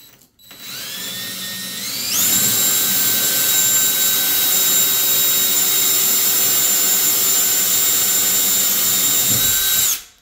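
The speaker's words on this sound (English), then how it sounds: "Line your drill up for that hole." A power drill whirs up to full speed with a loud, high whine, runs steadily for several seconds, then winds down, drilling a hole while installing a shower door.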